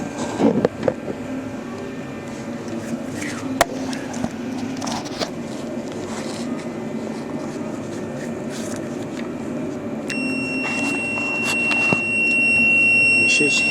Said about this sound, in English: If I touch these two leads together, these two leads here, there should be a noise or a beep.